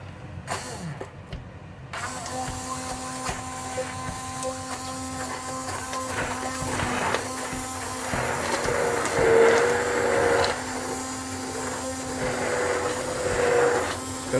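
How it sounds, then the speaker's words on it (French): A kitchen blender purées chicken masala sauce with a steady, loud whirring motor drone that shifts pitch slightly as the mix thickens, running continuously for several seconds after a brief quieter start. "Donc, on va mixer."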